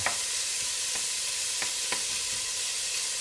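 Bacon bits render in a soup pot for pasta fagioli, giving a steady, fairly quiet sizzle under a few soft, scattered taps and scrapes.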